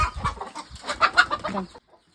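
A chicken clucks in a rapid, close run of short, agitated calls lasting under two seconds before falling silent.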